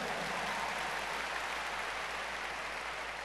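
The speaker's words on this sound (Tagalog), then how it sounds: "Pumalakpak nga po ang mga naniniwala niyan." Faint, continuous applause from an audience at a sermon-style talk, a steady wash of clapping heard from a distance for a few seconds.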